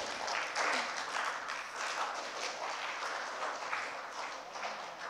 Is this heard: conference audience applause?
yes